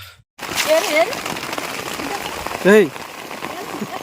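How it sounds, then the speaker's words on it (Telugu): Rain falls steadily with a constant hiss after a brief silence, and voices speak over it at times. "ఫుల్గా వర్షం పడుతుంది"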